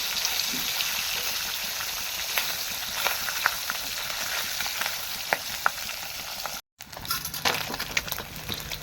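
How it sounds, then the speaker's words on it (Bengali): Rui fish pieces fry in hot oil with a continuous close sizzle, broken by small sharp pops and clinks as they are turned, with a brief cut to silence before the frying resumes. "জাস্ট একটু ভেজে নিতে হবে"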